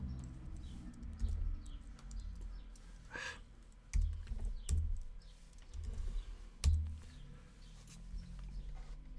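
Computer keyboard keys, mostly arrow keys, tapped in scattered single and double presses during a crossword puzzle, close and fairly quiet with soft thumps between clicks.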